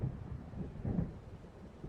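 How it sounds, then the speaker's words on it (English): A low, faint rumble of thunder from an approaching storm in the video game Alan Wake Remastered rolls in distant waves, soft and muffled, with no voices. "It seems there's a storm coming."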